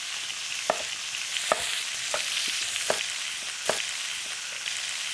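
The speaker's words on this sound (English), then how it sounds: "So when searing the meat, take your time." Beef short ribs sear in a pan with a steady sizzle and crackle, broken by several sharp scrapes and clicks from stirring. The sound is close and clear, and no one speaks.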